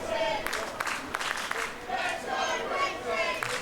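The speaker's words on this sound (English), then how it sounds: "Crowd chanting, "Let's go, Prince Dean."" A wrestling crowd at a UK pro wrestling match chants and roars steadily for a wrestler, a dense, loud wash of voices filling the arena throughout.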